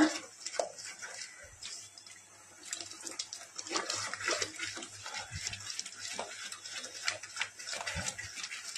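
Tap water runs steadily over steamed cauliflower as it is rinsed, making a continuous close splashing and gurgling wash with small irregular spatters throughout.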